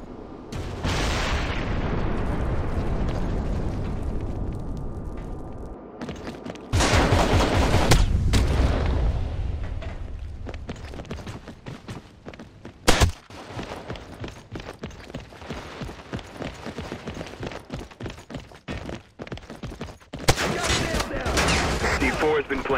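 Grenade blasts and heavy gunfire from the CrossfireX shooter game, with loud broadband bursts, sustained rattling fire, and a sharp bang near the middle, under occasional voices.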